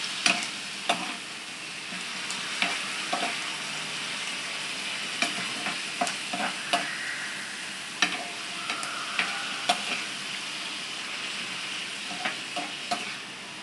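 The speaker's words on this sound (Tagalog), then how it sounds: "Igisa rin natin ng tomato." Tomato sautéing and being stirred in a pan for squid adobo, a steady close sizzle broken by frequent sharp clicks and scrapes of the utensil against the pan, with no talking.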